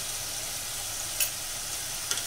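Tomato and chili sauce bubbling and sizzling steadily in a pan for pink sauce pasta, a soft continuous hiss with a couple of brief sharper crackles, no voices.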